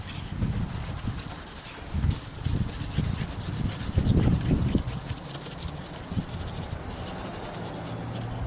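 Hand sanding a plastic headlight lens with 1000 grit sandpaper, a soft steady rubbing scratch with uneven strokes, close and fairly quiet.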